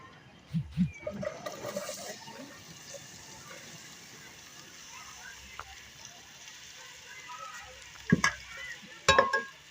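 Onions going into hot oil with minced meat for aloo mattar keema, a continuous low sizzle with a louder hiss and clatter near the start and sharp spoon-and-pan clanks near the end.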